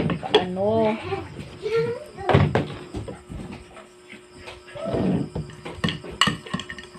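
Dishes being cleared after a family meal, with clinks of plates and cutlery and a cupboard or door thud, heard under steady talking, including a voice.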